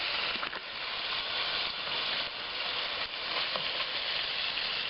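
Beef browning in a pan for a hearty stew, sizzling and frying steadily with a dense, continuous hiss and a few faint stirring scrapes, close and fairly loud throughout.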